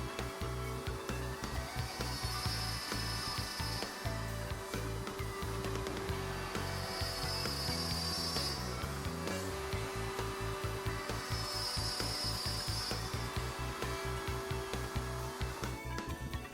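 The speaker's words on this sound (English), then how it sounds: "Routing is done in all openings to perfectly form the pins and tail sockets." A router table fitted with a Leigh RTJ400 jig cuts dovetail pins and tail sockets in wood, producing a loud, continuous whining drone with rhythmic rasping as the workpiece passes the bit.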